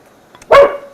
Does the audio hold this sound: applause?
no